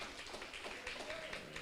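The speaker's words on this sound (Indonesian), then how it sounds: "Beri tepuk tangan lagi buat Tuhan kita" A congregation claps together during a church worship service, a steady wash of hand claps heard faintly and at a distance, mixed with a murmur of voices.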